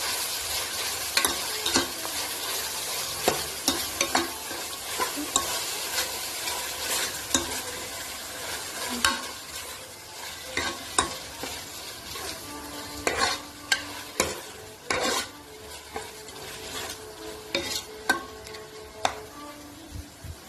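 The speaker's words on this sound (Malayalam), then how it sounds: "തക്കാളിയും ഇഞ്ചി വെളുത്തുള്ളി പേസ്റ്റ് ചേർത്തിട്ടുണ്ട്. നമുക്കതും ഇനി വരട്ടി കൊടുക്കാം." Onion, tomato and ginger-garlic paste sauté in a pan, giving a steady sizzle with frequent scraping stirs and clicks of the spoon against the pan, close and moderately loud, with no talking.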